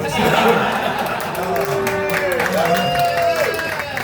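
A comedy club audience at a stand-up birthday show gives scattered applause mixed with chatter and chuckles, under background music and a loud speaking voice.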